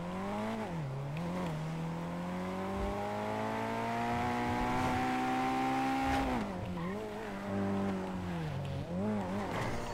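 A car driven in a video game revs with rising and falling engine pitch, climbing steadily through a long pull before dropping and wavering again, with faint tire noise, loud and continuous with no speech.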